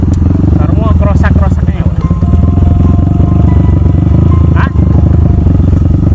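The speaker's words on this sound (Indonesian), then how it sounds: "Seperti ada suara gesekan gear yang lepas dari jalurnya." A motorcycle engine with a gear slipping out of place runs loudly and steadily, with a rough grinding, clattering edge throughout and a brief voice-like sound near the start.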